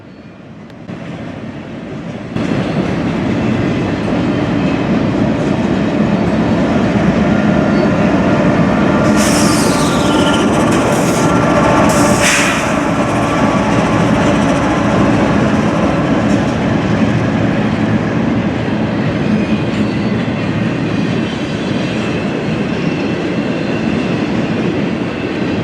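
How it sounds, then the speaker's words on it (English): A long intermodal freight train with a mid-train locomotive rumbles past steadily and loudly, wheels clattering, with a couple of sharp metallic squeals partway through. "this intermodal train also had a mid-train DPU on it as well"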